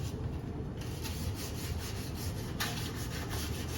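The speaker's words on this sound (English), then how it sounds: "Piece of this sandpaper. Scuff this lip up a little bit." Sandpaper is rubbed over the plastic front lip of an 8th-generation Honda Accord in steady back-and-forth scuffing strokes, close and fairly quiet.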